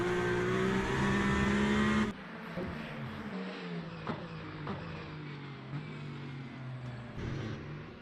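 Number 94 race car heard on board during a lap in the sim racing game Le Mans Ultimate: a loud, high engine howl that drops abruptly, then a lower drone with brief downshift blips, no talk.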